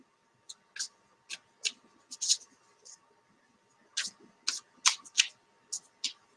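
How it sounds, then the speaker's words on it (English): Quick bursts of tarot cards being riffled and shuffled, about a dozen short crisp flurries in loose succession, close and fairly quiet, with no talking. "Give it a little shuffle here."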